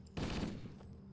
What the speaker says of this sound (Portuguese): E esta metralhadora, quando um tipo à frente, não, vai para aí para 100 graus. Dou um tiro, aquela merda vai para cima.